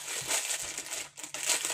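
A crinkly plastic package from an AliExpress haul is pulled open close by, giving continuous crackling and crumpling with a short pause partway through. The rustling stays fairly loud and no one speaks.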